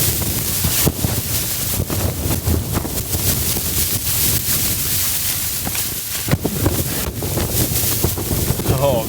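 Strong blizzard wind roaring and buffeting outside a winter camping tent, a continuous loud rush with gusty flaps and knocks.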